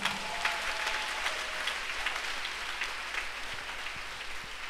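A church congregation applauds steadily during an Assumption Mass at the Saint Mathias Kalemba Mulumba parish, a dense, continuous patter of many hands clapping for the whole stretch, with no talking.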